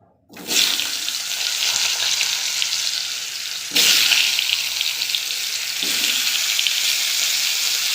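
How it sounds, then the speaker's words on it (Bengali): Cut potatoes go into hot oil in a Bengali home kitchen while making egg curry, bursting into a loud, steady sizzle that jumps louder twice, at about four and six seconds, as more pieces are added. No one speaks. "তেলের মধ্যে দিয়ে দেব আমি কেটে রাখা আলু"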